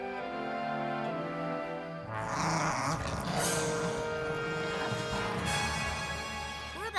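A cartoon dog growls in an animated Simpsons scene, a low rough snarl rising amid music and sound effects, fairly close and steady, with no words spoken.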